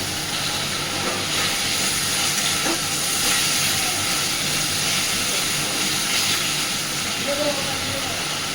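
Spice masala frying in oil while cooking egg posto, giving a steady, fairly loud hiss and sizzle that holds evenly throughout with no clear breaks.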